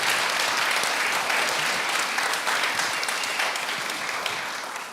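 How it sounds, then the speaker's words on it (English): Steady, dense applause from a seated audience at a community summit in a large hall, loud and continuous for the whole stretch with no voices above it, tapering only slightly at the end. "So let's give another big round of applause for them being here."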